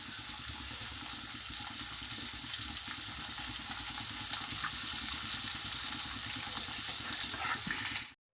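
Paneer fries in butter in a pan, a continuous close sizzle and crackle holding steady for several seconds before cutting off abruptly, with no talking.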